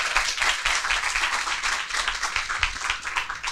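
An audience claps warmly to welcome a professor hosting a school learning-lab results presentation, a full, even round of applause sustained throughout at close range.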